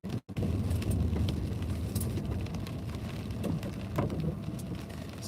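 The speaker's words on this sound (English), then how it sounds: "As you can tell, we're getting some rain coming in." Steady rain on a vehicle during a storm chase in upstate South Carolina, a constant wash of patter and hiss with scattered sharper drops, after a brief cut at the start.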